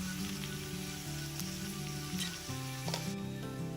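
Eggplant pieces fry in a pan with a soft, steady sizzle that runs throughout, with tonal background music playing underneath.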